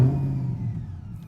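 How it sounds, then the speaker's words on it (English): A supercharged Corvette C8 E-Ray starts up, a loud, close low engine rumble that settles into a steady idle, with a thin supercharger whir riding on top throughout. "You get that whir of the supercharger on startup."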